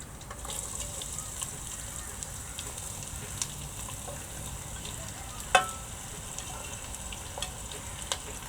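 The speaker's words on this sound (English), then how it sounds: "So I'm going to cook the onion until it's light golden." Sliced onions with bay leaf and ginger frying over high heat, a soft steady sizzle with occasional sharp crackles and spoon clinks, heard close and without talk.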